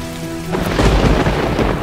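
Heavy rain pouring down in a loud, dense wash with deep rumbling, swelling in after a brief quieter moment, with no voices.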